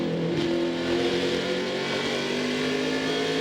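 A NASCAR stock car holds speed on a short oval track at Myrtle Beach Speedway, its engine a steady, loud drone with a sustained tone and no voices over it.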